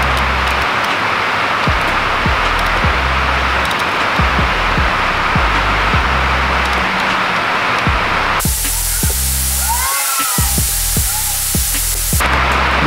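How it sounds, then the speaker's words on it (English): Constant loud hiss of heavy, hurricane-strength rain pours down without letup, with low thumping underneath and a brief change in tone near the end. "Sorry about the rain, we're getting like hurricane rain"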